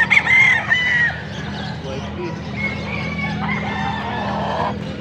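Street comb roosters crowing at a bustling chicken market in Angeles, Pampanga, with a couple of clear crows and clucks rising over a steady crowd hubbub and low engine-like rumble, voices chatting nearby.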